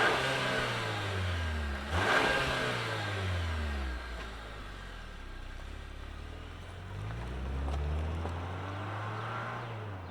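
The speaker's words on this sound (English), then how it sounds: "let's fire up this four-banger and hear what it sounds like" A 2024 Chevrolet Traverse Z71's four-cylinder engine idles, then revs up and drops back down in several sweeping pulls, loud and close with no talking.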